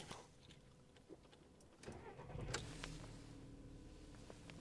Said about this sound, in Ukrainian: Давайте запустимо двигун нашого гольфа